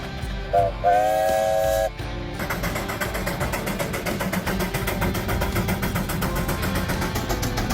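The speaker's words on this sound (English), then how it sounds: "The rhythmic sound of releasing pressure and the thick plumes of steam erupting from its exhaust" A 110HP steam engine gives a brief shrill whistle, then settles into a loud, steady hiss of released pressure with rhythmic puffs of exhaust steam.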